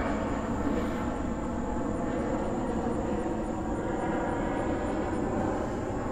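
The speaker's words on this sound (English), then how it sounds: "Sorry, we got a plane going by." A fixed-wing airplane passes overhead, its engine a loud, steady broadband roar that holds at a constant level for the full six seconds, with no speech over it.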